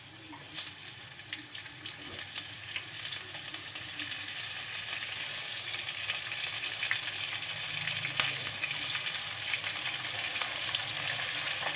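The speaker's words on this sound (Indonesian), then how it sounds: "Ini kita goreng sebentar ya, panggang sama tongkolnya." Continuous hiss and crackle of tuna frying in oil, with occasional small pops over the steady sizzle.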